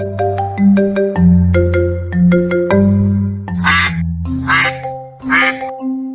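Loud, nasal duck quacks, several in a row, over a bright, bouncy music bed of tones and chimes, heard in a children's animal story.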